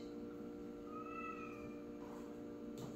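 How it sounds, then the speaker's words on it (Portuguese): A cat meows to be let in, one faint, drawn-out mew rising and falling, heard from a distance over a steady low background hum. "Luna, minha gatinha tá miando para entrar"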